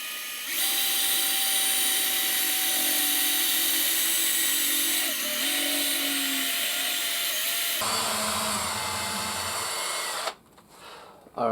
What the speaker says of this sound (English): I'm going to drill it just about 3 or 4 mil away from the edge of the coin